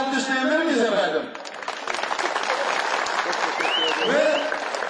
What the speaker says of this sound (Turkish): Bugün bizle müsaade ederseniz onu alkışlayabilir miyiz efendim?